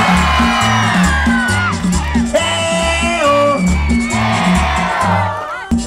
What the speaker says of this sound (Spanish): El grito y el público y el escándalo.